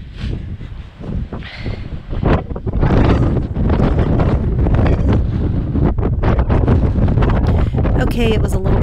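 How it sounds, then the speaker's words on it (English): Strong wind at the top of a historic hilltop monument buffets the microphone in loud, rumbling gusts that build and stay heavy, with people talking underneath. "it was a little bit windy up there too, so we didn't stay too long"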